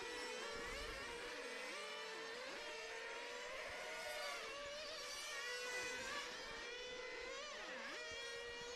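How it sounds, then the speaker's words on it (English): Several small high-pitched model race car engines, GT8 class, whine and rev, pitch rising and dipping repeatedly as they buzz around a racetrack, fairly close and continuous. "It's that car there just revving itself into the pits."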